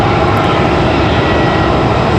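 An American Airlines Airbus A320-200 arriving from Philadelphia at Raleigh-Durham International Airport gives a steady, loud, broadband engine roar that holds unbroken throughout, with no talk.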